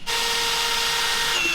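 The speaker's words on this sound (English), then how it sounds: "drill 2 holes, one up front here and one up front over there" A power drill bores two holes to mount a radiator. The motor whines steadily from start to finish, close and fairly loud, with no speech over it.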